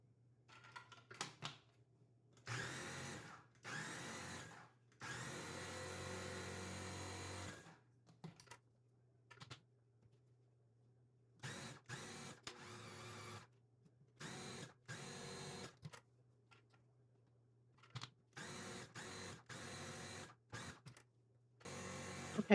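A food processor pulses carrot tops into pesto in short motor bursts of whirring, a dozen or so starts and stops separated by silence, a few held longer.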